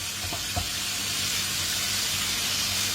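A pot of broth simmering on the stove, a soft, steady hiss and bubbling that carries on evenly throughout, with a couple of faint knocks near the start.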